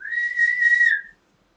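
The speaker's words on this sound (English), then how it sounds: "Whistle." A single sharp blast of a referee's whistle at a football match, one steady shrill tone about a second long, loud and clear, then silence.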